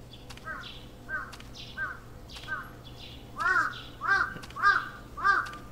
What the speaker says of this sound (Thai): น่าจะอีกาแล้วนะ